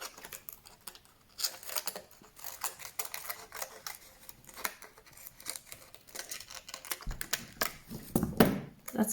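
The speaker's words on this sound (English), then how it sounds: "take your scissors and carefully cut around that." Scissors snip around a light plastic sheet while trimming a craft wing at a pom-pom workshop, giving a string of quick, crisp clicks and cuts at close range with no talking.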